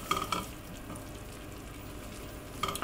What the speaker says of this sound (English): This is melted hot fat with flour, allowed to froth and cook so the starch granules expand and burst